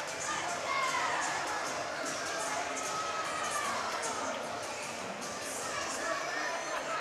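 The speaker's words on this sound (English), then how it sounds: "Great crowd here tonight." The crowd at a high school basketball district semifinal keeps up a steady wash of cheering, shouting and chatter, with children's voices mixed in, filling the whole stretch without a break while voices talk over it.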